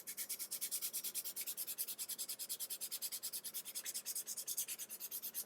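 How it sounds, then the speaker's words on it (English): Rough sandpaper rubbed back and forth along the edge of a fold-in cardholder gives a fast, even, rhythmic scratching of repeated strokes, close and quiet, with no talk. "use the rough sandpaper and sand down this edge here"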